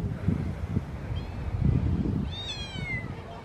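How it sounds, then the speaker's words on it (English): A small kitten outdoors on Christmas gives two thin, high meows, the second longer and clearer, over steady background crowd murmur and low rumble. "A little kitty on Christmas."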